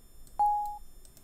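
Calung, a Balinese gamelan instrument in the middle bass range, sampled in FL Studio, struck once with a clear, pure tone that rings and fades over about half a second against a quiet background.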